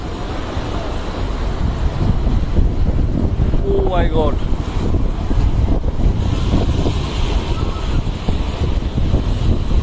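Rough sea driven by Cyclone Remal roars as a loud, continuous broadband rush of surf and gusting wind buffeting the microphone, while a voice briefly exclaims over it.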